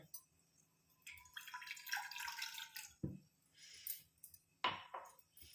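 Water splashes and pours in short bursts into an iron pan, with a few clanks and drips between the pours, close up and fairly quiet.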